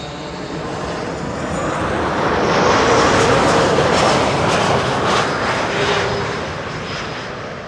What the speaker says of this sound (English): And there is an airplane